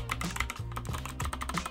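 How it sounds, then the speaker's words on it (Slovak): A small, inexpensive mechanical keyboard with only mildly clicky switches being typed on continuously, producing rapid, close clacking keystrokes in a steady rhythm with no talking. "Je počuť, že to je mechanické, ale tie switche nie sú až tak klikavé ako napríklad pri tej Razerke."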